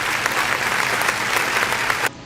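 A crowd at a podcast taping claps steadily and loudly, a thick wash of hands that continues without a break before dropping off sharply at the end.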